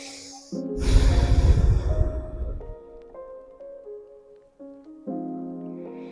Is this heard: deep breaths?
yes